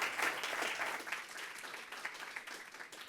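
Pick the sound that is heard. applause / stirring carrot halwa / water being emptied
applause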